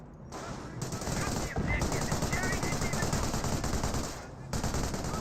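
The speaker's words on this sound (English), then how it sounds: "Captured MG42 gets some good suppression there to support the suppression of the Bren carrier" Sustained bursts of MG42 machine gun fire in the Company of Heroes video game, loud and rapid, rattling almost continuously with brief gaps, backed by battle din.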